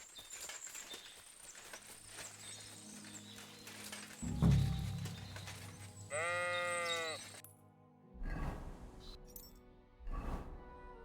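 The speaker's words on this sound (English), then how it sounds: "This must be the lost ram." A ram bleats in Kingdom Come Deliverance 2, with several wavering, nasal calls around the middle. A thud comes just before them, and brief low noises follow among soft ambient game sounds.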